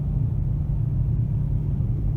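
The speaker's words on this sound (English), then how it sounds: "And listen how quiet the car is." A steady, low, even rumble from inside an AWD Chrysler 300 with a 3.6 V6, performance exhaust, intake and chambered mufflers, cruising gently at about 40 mph. The drone stays quiet and unchanging throughout, with no talk.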